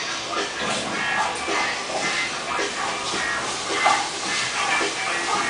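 Onion rings sizzle in hot fat in a home kitchen, a steady, even hiss of frying with faint shuffling clatter from the pan.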